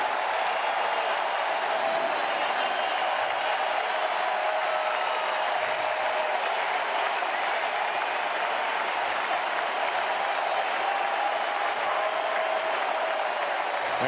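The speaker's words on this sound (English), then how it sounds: "And this crowd saluting Vogelsong on his way off" A big baseball stadium crowd at NLCS Game 2 applauds and cheers pitcher Vogelsong as he leaves the mound mid-seventh, a dense, continuous roar of clapping that holds steady throughout.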